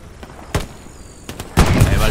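A cannon fires in the World War II game Hell Let Loose on the Kursk map: two sharp cracks, then a loud, sustained blast rolling out at the end.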